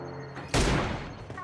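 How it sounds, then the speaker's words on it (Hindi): A single sharp, loud burst of gunfire in the BGMI battle royale game cracks out abruptly after a quiet moment, then trails off into a decaying rumble. "ये चली गोलियां।"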